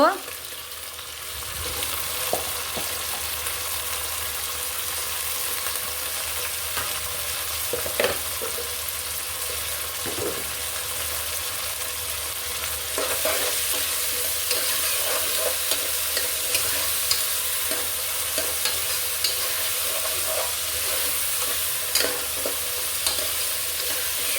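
Frozen peas and chopped carrots fry in a pan for khichuri, giving a continuous close sizzle broken by scattered scraping stirs. The hiss grows brighter and louder partway through, and no one speaks.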